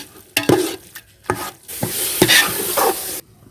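Spice powders being stirred in a hot pan over low heat for a village-style chicken dum biryani, with a steady sizzle and several sharp scrapes and knocks of the spoon against the pan, close and clear with no talking.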